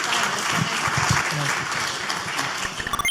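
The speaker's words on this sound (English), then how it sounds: "If everyone please give them a round of applause." Audience at a business conference session gives a round of applause, dense continuous clapping from the start with some faint voices mixed in.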